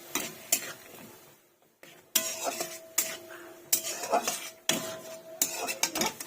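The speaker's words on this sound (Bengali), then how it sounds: "দিয়ে সুন্দরভাবে মশলাটাকে আমি কষে নিই" Spice masala with turmeric and tomatoes being sautéed in a pan: repeated loud spatula scrapes and clanks in bursts over a soft sizzle, with one short quiet gap; no one speaks.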